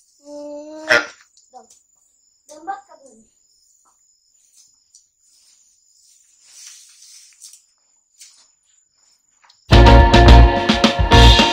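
A puppy gives a few short, high yelps near the start, then crickets chirp faintly before a loud burst of noise ends it.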